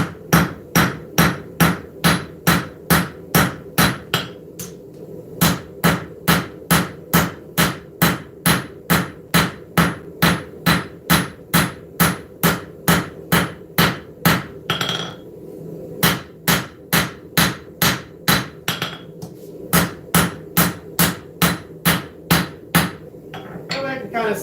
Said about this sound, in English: I'm going to start forging in the bevels